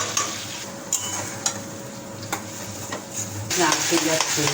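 Curry with mustard paste and whole green chillies being stirred in a frying pan, with repeated utensil scrapes and taps over sizzling, a louder burst near the end.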